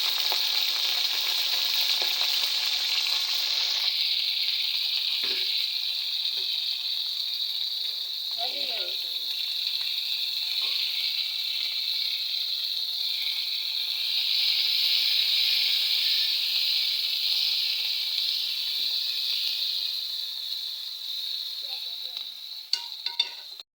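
Onions hiss and sizzle loudly in a kadai as they hit hot oil, a steady bright frying roar that softens slightly toward the end, with a few faint stirring knocks and no talking.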